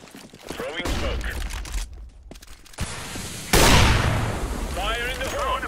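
Flashbang and grenades thrown during a CS:GO match on the Cache map, a loud burst blooming into a broad hissing blast amid steady gunfire and game noise, with voices calling out over it.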